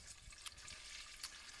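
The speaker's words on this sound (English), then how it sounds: "We're just going to pour it right here into our pump-up sprayer." Water-based silane siloxane waterproofer for stucco and masonry poured into a pump-up garden sprayer, a steady close liquid splashing and trickling, faint and continuous with no talk.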